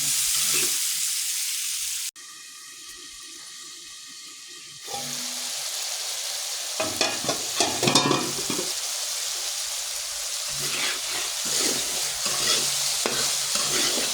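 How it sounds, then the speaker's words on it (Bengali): Turmeric, chili and ginger-garlic paste sautéing in a pan: continuous close sizzling and frying hiss, broken by scraping stirring strokes and a brief quieter pause, with no talking. "এখন আমি কষিয়ে নেব দশ মিনিটের মধ্যে ভালো করে কষিয়ে নেব"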